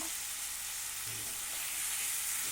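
Potatoes and spices sauté in a pan, producing a steady, fairly soft sizzle with faint scraping from stirring, continuous and unbroken with no voices over it.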